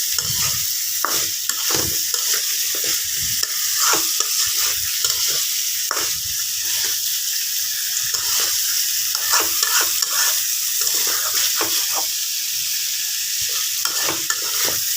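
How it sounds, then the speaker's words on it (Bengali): Fried potatoes sizzle in a pan of beef curry as a spoon stirs them, a constant loud frying hiss broken by frequent scraping, clinking strokes up close. "এখন আমি এগুলোর ভিতরে আপনার আলু দিয়ে দেবো। এই যে সুন্দর করে ভেজে নিয়েছি আলুগুলো, এই দিয়ে দিলাম। এখন আমিও কিছুক্ষণ কষাবো।"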